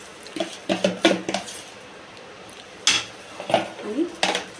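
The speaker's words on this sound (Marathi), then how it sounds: "आणि त्याच्यावर झाकण ठेवतो" A lid set onto an appe pan while cooking upwas appe, heard as a run of close metallic clinks and clatters, a pause, then several more knocks and rattles of the lid settling.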